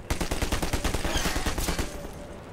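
Rapid automatic gunfire aimed at the player in the video game Half-Life 2, a dense stream of sharp shots in quick rhythm, loud and close, thinning out toward the end.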